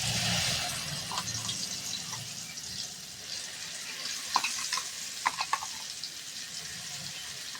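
Spice paste hitting hot oil in a pan for a mustard pabda fish curry, a loud sizzle that settles into a softer fry, with clinks and stirring taps near the end.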